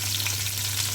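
Floured stuffed fish frying in a pan of oil, a loud continuous sizzle and crackle heard up close, steady for the whole moment with a low hum underneath and no talking.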